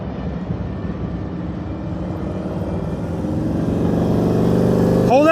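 Motorcycle engine at a steady low throttle during slow-speed riding skills practice in Florida, a continuous close rumble that gradually swells louder toward the end.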